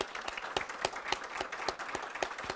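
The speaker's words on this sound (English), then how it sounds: "let's give all of those teams and their sponsors a round of applause" An audience at a school board recognition meeting applauds steadily, individual claps distinct and rhythmic, a moderate crowd clapping at even volume throughout.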